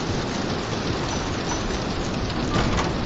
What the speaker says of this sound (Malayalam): മഴയൊക്കെ ഉണ്ടാവും